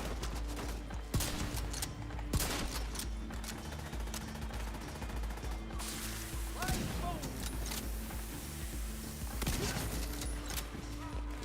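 Turret gunfire in The Division 2, rapid bursts of shots cracking through a busy firefight over steady game noise, with a voice talking at times.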